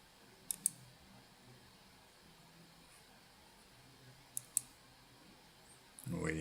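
A computer mouse clicks quietly in two quick pairs several seconds apart, faint and close, while someone talks.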